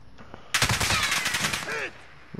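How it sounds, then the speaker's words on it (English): Video game gunfire crackles in a dense, loud burst of rapid shots lasting over a second, with a faint thump before it and quieter noise after. "They're still shooting at me through the window"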